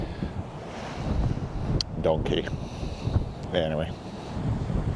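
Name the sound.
strong wind on Orkney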